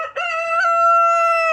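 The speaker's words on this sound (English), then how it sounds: "got here one of our chicken coops, and we've got Mrs. Turkey in there" A rooster at a homestead chicken coop lets out one loud, close crow, a long sustained call held for over a second.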